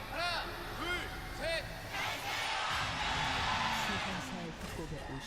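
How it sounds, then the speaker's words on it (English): Stadium crowd at a T1 esports match, a broad roaring cheer that swells in the middle and stays loud throughout, with a few rising whoops from a near voice over the din. "That's the crowd?"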